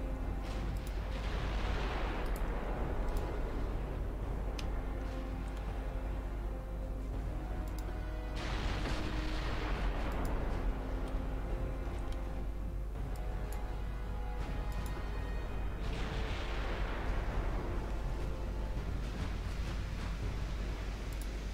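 Heavy naval guns of battleships fire in a long-range engagement in the naval combat game Ultimate Admiral Dreadnoughts, with three loud booming salvos spaced several seconds apart, each rolling off into a long fading rumble over a constant low drone.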